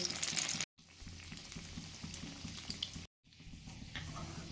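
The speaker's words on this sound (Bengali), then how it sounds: "এরপরে এই সিমাই মাখা টিকিয়াগুলো দিয়ে দেবো। এইভাবে সবগুলো দিয়ে দেবো, কম আঁচে এগুলো ভাজতে হবে।" Vermicelli-coated patties fry in hot oil over low heat, giving a steady close sizzle interrupted by two short gaps of near silence.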